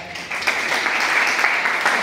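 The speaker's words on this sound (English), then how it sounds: "students and staff members to please clap" At a college MOU ceremony with Edumindz, students and staff break into applause that swells after a brief quiet start, then stays as a steady crowd clapping close by for the rest.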